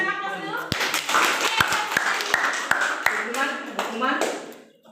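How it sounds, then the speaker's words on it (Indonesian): Audience clapping during a teaching session, a series of sharp separate hand claps under ongoing talk and chatter, fairly near and moderate in level. "Tepuk tangan."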